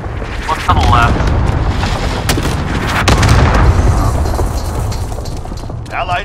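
Air strike explosions from a war video game, heard as loud, continuous booming rumbles with sharp cracks layered over them, while radio-style game voices talk throughout.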